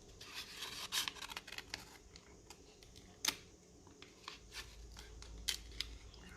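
Quiet, irregular snips of scissors cutting paper for a folded paper spinning top, with short crisp cuts and small pauses between them, close by.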